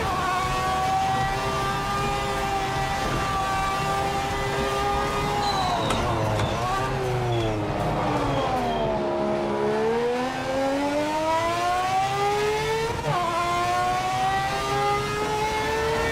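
A race car in Project Motor Racing holds a loud, close engine note that sweeps down and back up through gear changes and revs, continuous throughout.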